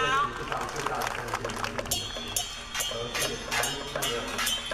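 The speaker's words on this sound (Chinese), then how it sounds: "请大家以热烈的掌声鼓励立头港国小" Applause from a crowd at a temple festival performance welcoming Litougang primary school's Song Jiang troupe, rhythmic clapping with sharp repeated bursts under a public-address voice.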